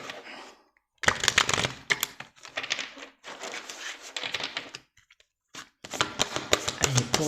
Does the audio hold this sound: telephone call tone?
no